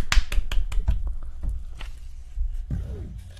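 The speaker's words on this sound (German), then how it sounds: "Ich klatsche." A run of sharp hand claps, about seven quick hits close together and then a few more spaced out, loud and close, with no talking.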